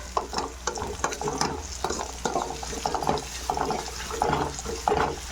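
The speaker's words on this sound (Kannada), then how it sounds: "ಗೋಲ್ಡನ್ ಕಲರ್ ಬರೋವರೆಗೂ ಫ್ರೈ ಮಾಡ್ಕೊಳ್ಳಿ" A pan fries for tomato rice with a busy, crackling sizzle and repeated scraping of a spatula stirring in a regular rhythm, close and fairly loud, with no voice.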